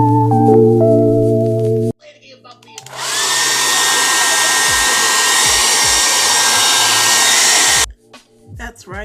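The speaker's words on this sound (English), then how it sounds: "You get that old hair dryer, you burn those suckers away." A hair dryer roars on loud and steady, blasting over paper to erase erasable pen line art, then cuts off abruptly; someone speaks briefly before it starts.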